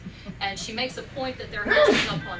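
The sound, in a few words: sneeze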